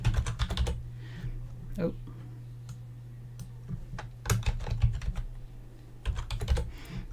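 Keys clatter on a computer keyboard in quick bursts, with close typing clusters near the start, middle and end over a low steady hum. A short spoken word breaks in briefly.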